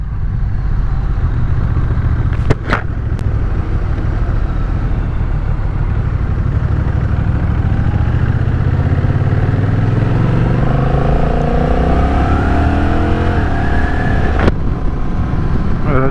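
A Honda Rebel 1100 DCT motorcycle engine revs up steadily and shifts gears during a demo ride, a loud continuous drone with rising pitch and a couple of sharp clicks, with wind rush throughout.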